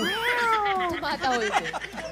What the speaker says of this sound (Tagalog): Hindi pala aso yung bagong panganak, pusa.